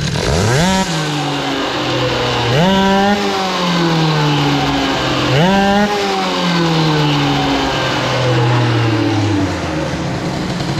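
A moped engine fitted with an Airsal 77 XT kit and a boosted reed intake revs sharply three times, each blip climbing fast and then settling back toward idle, loud and close with no talk.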